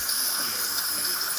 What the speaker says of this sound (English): then we're going to have a steam coming out just like so